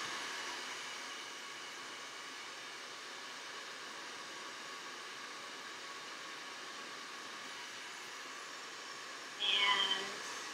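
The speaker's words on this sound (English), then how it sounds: "I have the good old fancy hair dryer here. Turn it on" A hair dryer blows with a steady, even hiss and whir while warming a nail wrap, continuous throughout, ending with a brief louder burst of noise.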